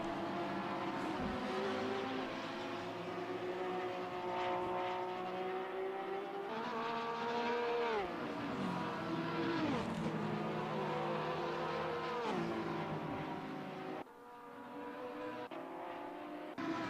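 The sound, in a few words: Lamborghini race car in sim racing video game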